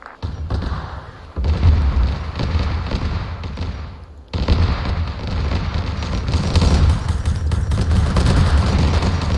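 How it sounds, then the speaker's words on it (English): Mortar shells pound down in a Warhammer-style war game, a dense barrage of booms and crackling blasts with a short lull before the explosions resume and build louder. "We've got a mortar we might put up at LG Pickles to shell the crap out of Marker"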